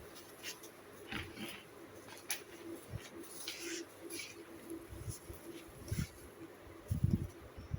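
Pigeons, including a pair of Giribaz birds, give soft low coos near a cage as it is turned over and opened, with scattered rustles and clatter of the wire cage around them; no one speaks.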